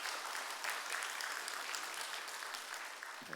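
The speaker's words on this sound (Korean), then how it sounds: "우리 서로 수고했다고 박수 한번 해주시겠습니까" Steady congregation applause in a church service, many hands clapping together continuously at a moderate distance, with no speech over it.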